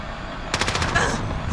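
Video game gunfire cracks out as one rapid automatic burst of about half a dozen shots, loud and close, with no talking.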